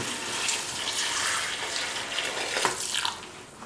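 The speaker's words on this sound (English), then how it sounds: "Pour in 3 cups of water" Three cups of water are poured into a chicken curry being cooked, a steady close splashing and trickling stream that runs for a few seconds and tapers off, with no talk.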